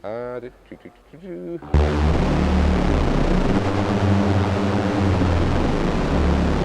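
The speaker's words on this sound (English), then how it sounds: "ring modulator sounds like this." A Moog One synthesizer's ring modulator produces a harsh, metallic tone with clangorous, inharmonic overtones that starts abruptly after a brief stretch of talking and holds steady and loud.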